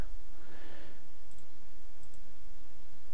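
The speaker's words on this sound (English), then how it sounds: "Sorry about the clicking noise in this video." Soft, rapid computer mouse clicks during RuneScape play repeat in a steady rhythm, close and fairly quiet beneath a faint background hum, with no voice present.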